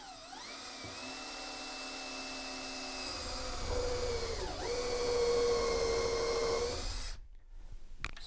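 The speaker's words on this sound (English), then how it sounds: "So this will drill the hole plus put a countersink in." A drill fitted with a countersink bit spins up and bores a screw hole into wood while installing a fiberglass shower, a steady high whine that rises in pitch and loudness midway, then cuts off abruptly near the end.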